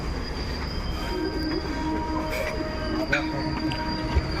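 A train rolls along the rails with a constant low rumble and a thin, sustained wheel squeal, close and steady throughout.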